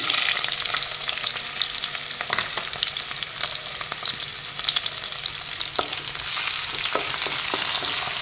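Onions and whole spices fry in hot oil with a dense, steady sizzle, dotted with small crackles and stirring clicks, close and fairly loud.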